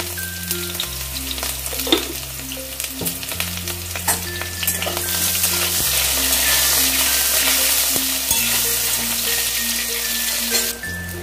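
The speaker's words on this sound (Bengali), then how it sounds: "এবারে বেগুনগুলোকে ভেজে নেব।" Salted eggplant pieces fry in a pan with a continuous bubbling sizzle and occasional stirring, while steady background music plays throughout.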